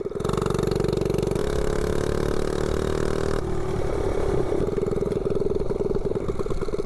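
A 98cc Rascal mini bike engine with a slide carb and header pipe revs hard, a loud steady buzzing drone that shifts pitch partway through, close and unbroken with no talking.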